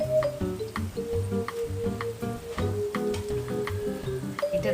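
Onions fry in a pan with ginger-garlic paste added, giving a steady sizzle broken by rapid ticking pops and light scraping throughout, with no talk.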